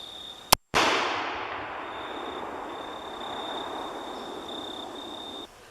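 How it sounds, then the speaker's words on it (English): A single loud .358 Legend shot from a Thompson Center Contender pistol firing a Sierra round nose bullet: a sharp blast followed by a long, fading outdoor rumble and hiss. "So I'm going to shoot the Sierra round nose now and just see where it lands on the target."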